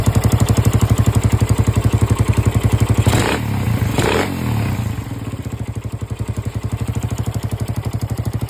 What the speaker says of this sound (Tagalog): Tsaka may singaw din yung tambutso niya.